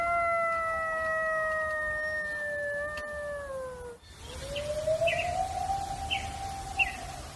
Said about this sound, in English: a coyote would be a very likely source of the sounds that we hear in the Mogollon recording